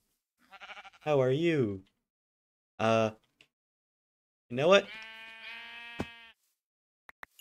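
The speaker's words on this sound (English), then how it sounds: "Is that a goat? No, it's a sheep." A sheep in the Minecraft TerraFirmaCraft mod lets out a couple of wavering bleats between stretches of someone talking, with a short buzz and a click near the end.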